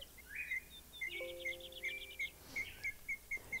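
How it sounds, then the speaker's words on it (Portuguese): Recorded birdsong plays softly in the background of a landscape painting session: repeated short, bright chirps in an even rhythm, faint and distant-sounding, with no talking. "acho que eu vou baixar um pouquinho o som dos passarinhos"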